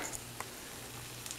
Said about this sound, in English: Look at that sizzling cheese.